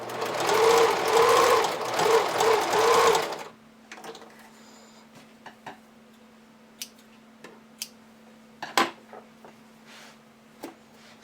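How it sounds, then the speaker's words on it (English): A sewing machine runs fast and steadily for a few seconds stitching sequin fabric, then stops, leaving a quiet hum and scattered small clicks and taps. "You can serge or you can use your sewing machine."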